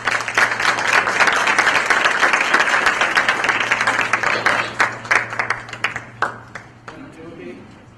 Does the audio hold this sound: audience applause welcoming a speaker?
yes